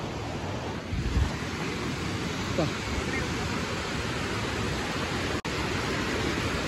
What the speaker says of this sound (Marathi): काय वॉटरफॉल आहे